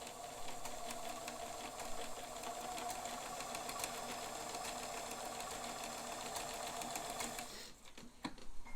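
A Bernina 530 Record sewing machine stitching steadily, a fast even mechanical whir and clatter close up that stops abruptly near the end, followed by a few light clicks.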